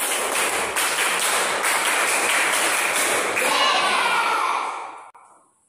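A school class performs a rhythmic spirit clap, steady sharp claps in a quick repeating pattern with some children's voices mixed in, then the sound fades away to silence.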